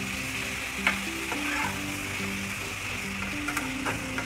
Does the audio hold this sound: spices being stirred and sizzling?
yes